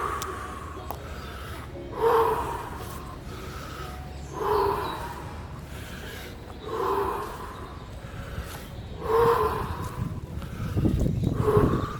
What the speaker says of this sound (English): 40 deep breaths.